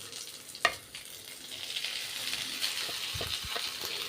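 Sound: drumstick leaves frying in pan with onion

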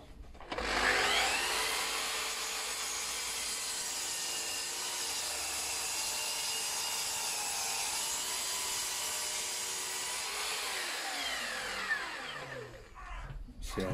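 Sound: trimming the end of a wooden shelf board

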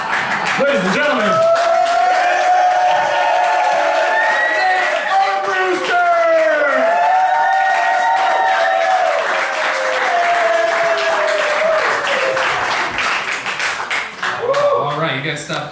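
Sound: audience applauding comedian

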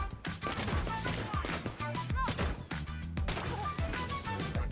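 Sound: gunfire in video game The Division 2

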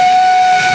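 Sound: steam locomotive whistle

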